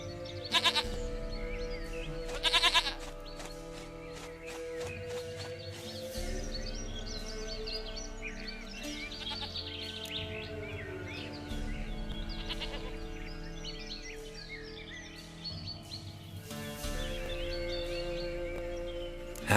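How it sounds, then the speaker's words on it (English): Goat bleats in The Witcher 3 game world, several calls rising over a continuous bed of game music and ambient sound, fairly close and moderately loud. "Goat of mine, dearest, sweetest goat."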